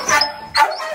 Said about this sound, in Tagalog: Kapag ganong umiyak na yung aso, ibig sabihin, no? Talo siya sa akin